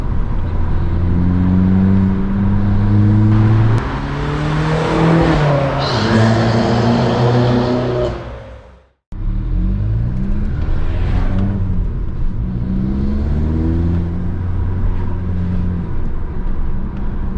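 A modified VW Golf Mk6 1.4 TSI drives through a tunnel, its engine loud and close as it revs up through the gears, followed by a brief cut and a downshift.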